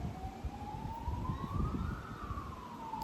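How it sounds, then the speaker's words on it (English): An emergency vehicle siren rises in a slow wail and then falls away as it passes outside, with steady traffic rumble underneath and no talking. "there's the sirens"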